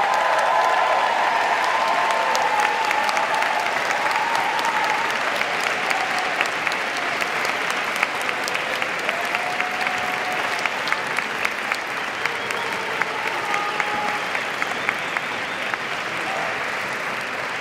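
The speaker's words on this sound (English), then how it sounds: "Seniors, please give them a hearty round of applause." Sustained applause from an audience honoring parents at a Tufts baccalaureate ceremony in 2017, a steady dense wash of clapping from a large crowd that holds for the whole stretch with a few sharper nearby claps standing out.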